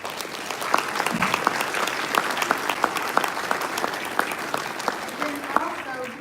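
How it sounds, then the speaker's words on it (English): Applause from a banquet audience honoring scholarship recipients at an MLK event, a steady wash of many hands clapping with sharp individual claps standing out, with faint voices mixed in. "So if we can give those scholarship recipients a round of applause."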